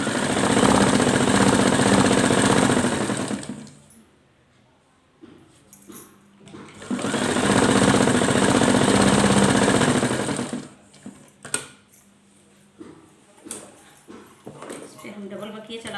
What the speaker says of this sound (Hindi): हम डबल बकिया चला देते हैं, थोड़ी मजबूताई हो जाती है।